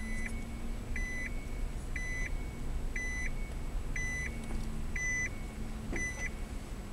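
A Nissan automatic parking system sounds a warning as paired electronic beeps, repeating about once per second at a steady rhythm over a low vehicle hum.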